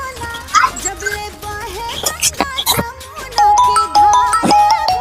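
A melodic phone ringtone plays in a repeating tune of tonal notes, fairly loud and close, with some sharp percussive hits mixed in.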